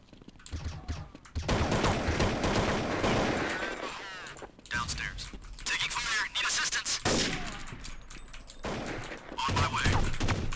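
AK rifle gunfire in a video game, with loud rapid bursts and volleys of shots that repeat through most of the stretch, separated by brief pauses.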